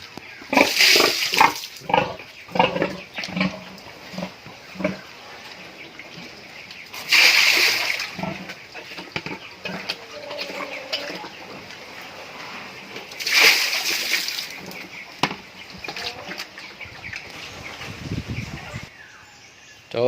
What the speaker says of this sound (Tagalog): pinalamigan natin, binuhusan natin ng tubig para presko yung pakiramdam niya